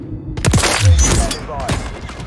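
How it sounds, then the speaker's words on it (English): Gunfire from a 4v4 online shooter match: several loud, sharp shotgun blasts and impacts in quick succession over a couple of seconds, mixed with excited players' voices. "I'm putting this shotgun to work"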